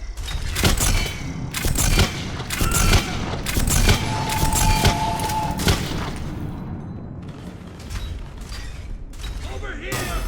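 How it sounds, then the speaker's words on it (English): Heavy gunfire from Harvesters attacking Turian soldiers in the Mass Effect 3 video game, loud repeated bursts and booms in quick succession that thin out toward the end. "Harvesters firing on the Turians!"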